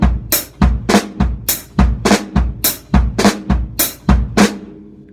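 On a drum set, a fill alternates snare drum and hi-hat strokes over bass drum beats, a fast even rhythm of crisp close hits that stops and decays near the end.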